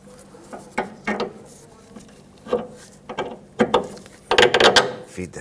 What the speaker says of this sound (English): Now we're using our 15 millimeter gear wrench on the nut